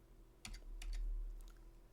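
Faint, sparse taps on a computer keyboard, a few separate keystrokes spread over two seconds above a low room hum, with no one speaking.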